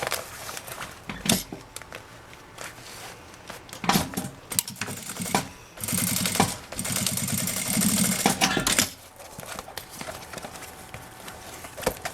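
A sewing machine stitches a zippered clear-vinyl toiletry pouch, running in dense rhythmic bursts that start and stop several times, with a longer continuous run near the middle.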